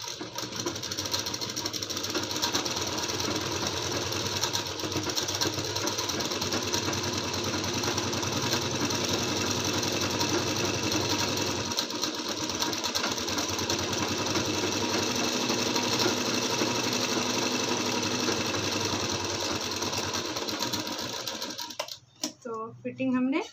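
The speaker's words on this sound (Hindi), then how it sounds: "यहाँ से फिटिंग की सिलाई लगाएंगे।" A sewing machine runs continuously, stitching the fitting seam on a lined kurti suit with a steady rapid mechanical whir and clatter, close and fairly loud, stopping near the end.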